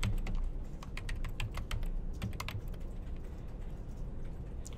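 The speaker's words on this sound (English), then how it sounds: "And now I can type in what I want to have happen." Quick, continuous typing on a computer keyboard, with close, crisp clicks in an irregular rhythm and no other sounds.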